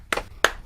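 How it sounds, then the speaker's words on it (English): Two sharp claps, spaced apart, fairly close and clear against a quiet background. "We're missing out on your clapping"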